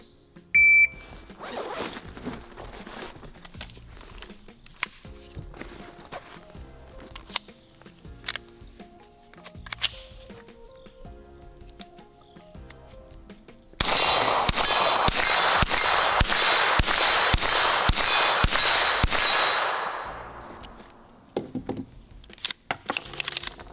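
A shot timer beeps, then a folding 9mm pistol-caliber carbine is unfolded, loaded and fired. About ten rapid, loud shots hit ringing steel targets outdoors, preceded by clacks and handling noises of the gun being readied.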